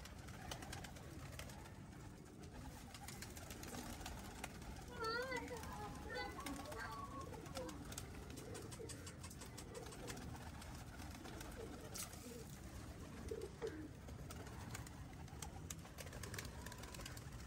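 Breeder pigeons coo softly while feeding amid a busy outdoor background, with children's voices and chatter mixed in and bird calls rising briefly at intervals.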